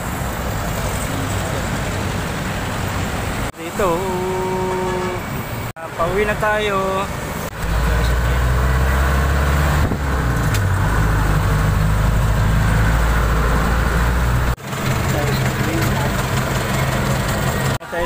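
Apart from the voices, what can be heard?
riding a jeepney in traffic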